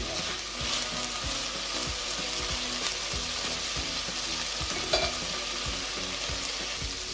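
Vegetables and garlic sautéing in a pan until soft, a dense, even frying sizzle with a regular rhythm of stirring strokes, loud and close throughout.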